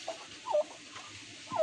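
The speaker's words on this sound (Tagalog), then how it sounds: "Ayan, anak nung pabo." A young turkey poult chirping in a few short, thin calls on a rural farm, close by and fairly quiet, with brief pauses between peeps.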